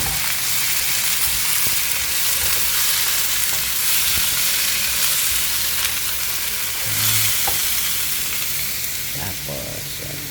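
Carrots and Baguio beans stir-fried in a hot pan for pancit guisado, a loud continuous sizzle with scraping stirring clatter near the mic and brief bits of talk underneath.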